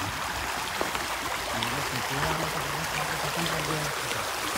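A river flows steadily beside a village path, giving a constant broad rushing wash that fills the scene. A low vehicle-like hum runs underneath.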